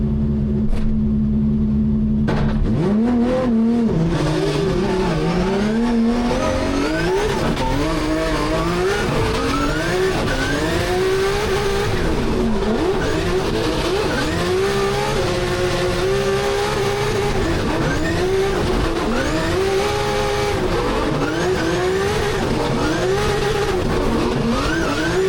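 Onboard a drift car at a Drift Masters round in Riga: a loud engine revs hard and continuously, rising and falling through gear changes, with tire squeal mixed in throughout.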